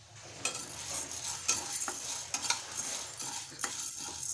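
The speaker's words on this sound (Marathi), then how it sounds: "तर कढईमध्ये मी चणा डाळ भाजून घेत आहे" Dry stirring and scraping of chana dal roasting in a kadhai, with a soft sizzle underneath, marked by several sharp metallic clinks of a spoon against the pan.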